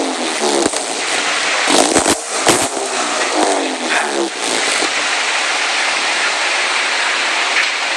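A Subaru fitted with an STI exhaust revs loudly up close, a broad, harsh roar with sharp crackling bursts in the first few seconds before settling into a steady rumble.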